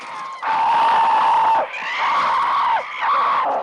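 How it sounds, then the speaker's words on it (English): Loud, close screams from the film 2001: A Space Odyssey, three sustained wailing cries with brief breaks between them and a strained, harsh edge. "That scream, it felt a bit more human"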